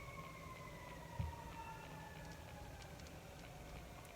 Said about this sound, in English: We have sirens outside.